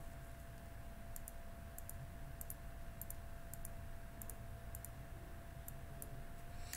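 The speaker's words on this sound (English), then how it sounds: "click on the ruler icon and draw all the way around your slew by clicking" A computer mouse gives sharp, quiet clicks in evenly spaced pairs while a field boundary is drawn, over a steady background hum.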